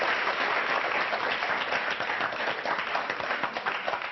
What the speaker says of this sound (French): On va vous applaudir très fort, Frida